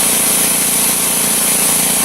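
A Foxhunter 3hp 90 litre air compressor motor runs with its air outlet fully open, giving a loud, constant, close-up mechanical roar and buzz with no pauses and no talking.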